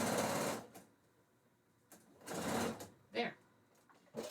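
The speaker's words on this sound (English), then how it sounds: "And just sew it on." Sewing machine stitching a tiny fabric piece onto quilt batting, running in short bursts with pauses, close and moderately loud, with a voice speaking over parts of it.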